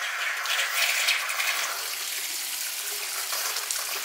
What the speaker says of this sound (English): Well, the water's flowing where it's supposed to.